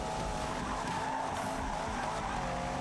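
Tires squeal and skid as a car brakes hard into a corner in Need for Speed (2015), a loud sustained screech over roaring engine noise.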